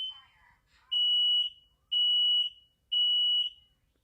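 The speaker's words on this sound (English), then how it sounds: "We have one of those shared fire alarms." An indoor smoke alarm shared with the flat downstairs sounds three loud, piercing electronic beeps at an even one-second rhythm. A brief voice comes before the first beep.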